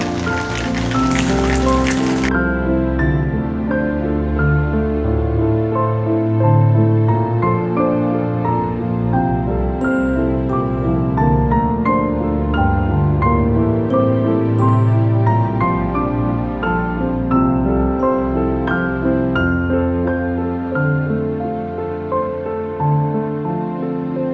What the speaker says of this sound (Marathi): खूप जोरात पाऊस पडतो आता